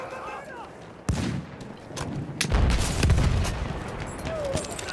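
Gunfire in the video game Battlefield 1 sounds as several sharp, loud shots and booms, with a sudden blast followed by a rumbling burst of fire. Faint voices sit underneath.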